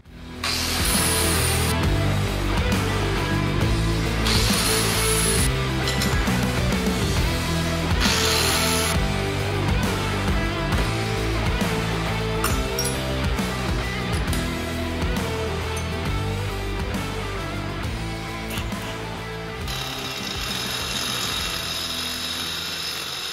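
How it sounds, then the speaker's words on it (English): A cutoff wheel grinds steadily through metal mounts for a Suzuki Samurai four-link build, a loud, harsh, continuous whine close by that runs unbroken for over twenty seconds with slight shifts in pitch. "we do have to run the cutoff wheel, but we are going to grind through this"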